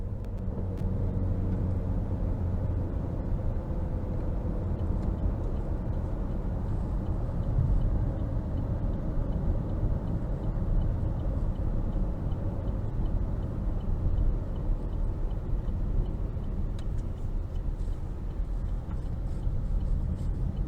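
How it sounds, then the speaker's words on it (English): A 2022 Chevrolet Malibu LS with a CVT cruising on the road, heard from inside as a steady low engine and tyre rumble with constant road noise and no talking. "let's go ahead and take this Malibu LS out on the road for a quick test drive"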